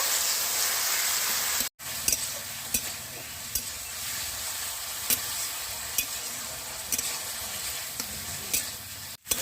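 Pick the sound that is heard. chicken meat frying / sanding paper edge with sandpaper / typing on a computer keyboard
chicken meat frying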